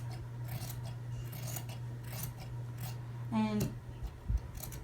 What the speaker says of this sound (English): First, let me finish the cutting of the front.